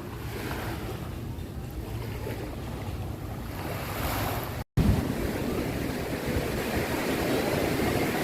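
Steady wind and rolling surf at Bulabog Beach, Boracay, a continuous broadband roar of waves and gusts buffeting the microphone, with a brief dropout midway before the same loud wash resumes.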